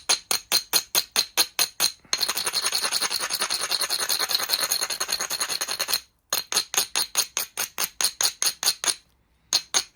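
Close, loud grinding in a rhythmic series of rasping strokes, broken by a long continuous stretch of steady abrasion in the middle, then quick repeated strokes again with brief pauses.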